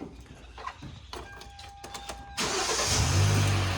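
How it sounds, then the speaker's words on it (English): A starter whirs briefly with a few clicks before the engine of a 2011 Hyundai Elantra fires up and settles into a steady, close idle. "we'll just go ahead and start the car real quick"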